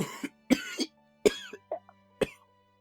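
A voice mimics a harsh, raspy cough in several rough bursts, with throaty clearing sounds between them, close and fairly loud.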